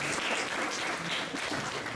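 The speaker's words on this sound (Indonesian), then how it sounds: "Tepuk tangan buat sponsor kami." Steady clapping from an audience at a DEKOPINDA event in Kediri, applauding the sponsors, filling the whole moment at a fairly even level.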